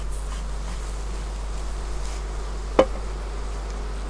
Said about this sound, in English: I've angered a lot of bees